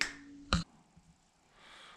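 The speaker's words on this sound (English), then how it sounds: "how about I just snap my fingers and we go to nighttime" A single crisp finger snap, sharp and close, stands out against a quiet room with faint low background noise before and after it.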